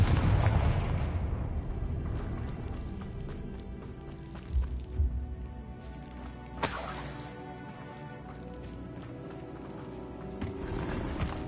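In Hogwarts Legacy, a Confringo blasting spell sets off a loud explosion in the catacombs, with a boom and shattering debris up front and rumbling that fades. A sharp crack follows partway through.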